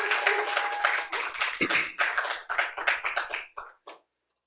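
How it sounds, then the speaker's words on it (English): Audience applause at a talk, a close, moderately loud patter of clapping hands that thins into a few scattered claps and stops. "Give yourselves a round of applause."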